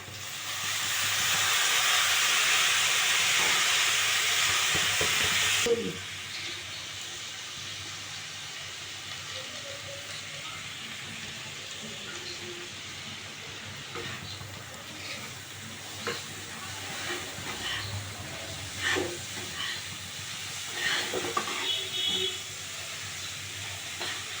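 Gima greens tossed into a pan of fried potatoes: a loud roaring sizzle for about five seconds, then a softer crackling fry with scattered stirring scrapes and clatters, no talk.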